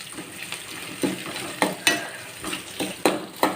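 Red chillies and onion are sautéed in a pan, a soft frying sizzle broken by repeated clinks and scrapes of a spoon stirring at an uneven rhythm, close and fairly quiet.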